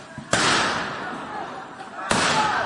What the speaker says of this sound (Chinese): 听到一声一声的枪声